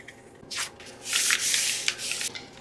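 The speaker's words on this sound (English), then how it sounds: "I'm going to fold this over about a ½ inch. I'm going to glue it on the page" Paper page being folded over and glued into a handmade journal: several close, crisp rustling rubs in short bursts, with no talking.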